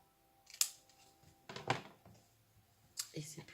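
Scissors trimming excess paper from a scrapbooking card, giving a few brief crisp snips spread across a short stretch, close and fairly quiet, with a person talking softly in between.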